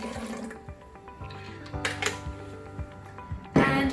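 About a cup of water is poured into a large container for tea, the liquid splashing and trickling with small clinks and a louder splash near the end, with no talking.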